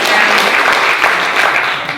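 A burst of loud, close audience applause at the opening of a live comedy stage show, dense clapping throughout that tapers slightly toward the end, with no voices over it.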